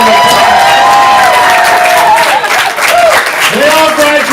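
A stand-up comedy student showcase audience applauds loudly, with dense continuous clapping and cheering. Voices can be heard over the clapping.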